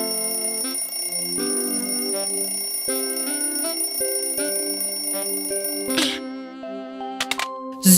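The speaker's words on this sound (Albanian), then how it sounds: "alarmi!" A cartoon alarm clock rings in the bedroom of an excavator character, a bright, steady mechanical bell-and-chime jingle that repeats loudly for several seconds, then breaks into clattering metallic hits at the end.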